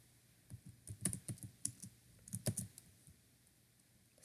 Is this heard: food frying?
no